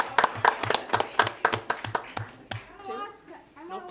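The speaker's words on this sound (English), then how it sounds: "Give them a round of applause." A small group claps at a school board meeting for kids, hands striking in a steady, fairly fast rhythm for a few seconds, then tapering off as excited voices and chatter take over.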